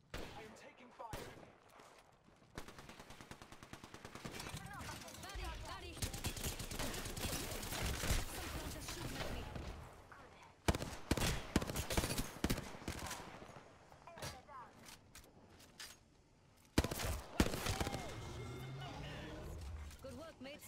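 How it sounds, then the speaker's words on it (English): Gunfire rattles through a match of the Apex Legends video game in repeated bursts and sustained volleys, some near and loud, others sharper single shots, with someone talking over much of it. "I am taking fire"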